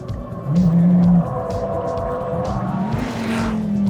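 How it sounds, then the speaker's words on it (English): A Dodge Viper engine blips and revs through heel-and-toe downshifts, loud and close, with a sustained tone that drops and then rises again as gears change, and no talk. "Lovely heel and toe downshifts"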